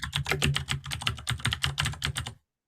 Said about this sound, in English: someone was typing very furiously